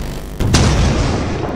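A single loud boom-like gunshot in the video game Lethal Company, fired from a rooftop, hits sharply after a brief quiet lead-in and leaves a long rumbling tail.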